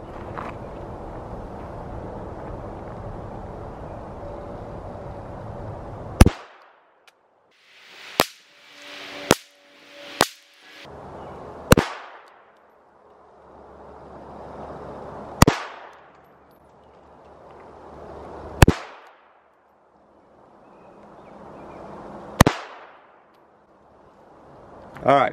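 Walther CCP pistol test fired at a range: seven sharp, loud single gunshots at irregular intervals, each with a quick decaying echo, following a stretch of low background noise.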